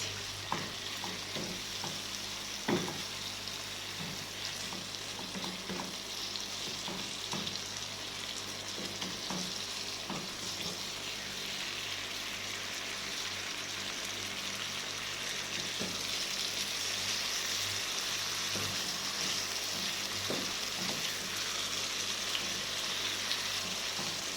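Spicy Alexandrian-style liver sizzles steadily in a pan, a continuous close frying hiss with a few faint clicks and ticks scattered through, no voices.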